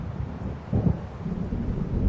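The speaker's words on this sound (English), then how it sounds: "It seems there's a storm coming." Approaching thunderstorm in Alan Wake Remastered by the lake near Diver's Isle: low rumbling thunder and wind wash, with a heavier swell of rumble midway and continuing dark roar to the end.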